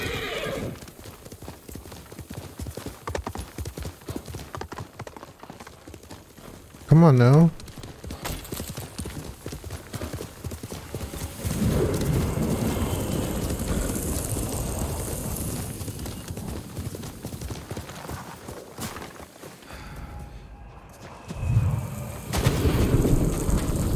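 Rhythmic horse hooves clip-clopping at a trot in Ghost of Tsushima, with a horse whinnying briefly partway through and someone speaking a few words over it.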